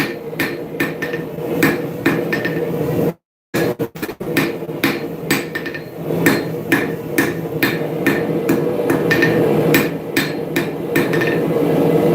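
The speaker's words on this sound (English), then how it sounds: "one more tag forging and I think we'll be done" A blacksmith's hammer forges a small metal tag, with loud, ringing, evenly spaced blows repeating close by and one brief pause partway through.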